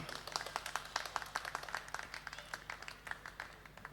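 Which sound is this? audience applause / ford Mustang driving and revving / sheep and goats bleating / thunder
audience applause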